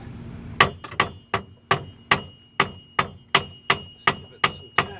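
Hammer tapping a front suspension strut on a 2002 Mercury Sable during lower ball joint replacement: about eleven sharp metallic clanks at a steady pace, close and ringing briefly.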